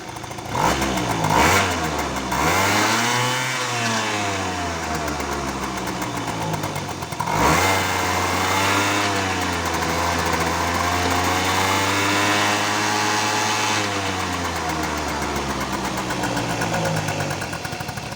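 A Honda Dio AF34E scooter engine with a newly replaced exhaust idles and is revved up and down at close range, a steady low drone rising and falling in pitch, with no talking over it.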